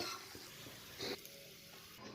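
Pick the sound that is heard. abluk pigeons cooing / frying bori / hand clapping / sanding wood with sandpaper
frying bori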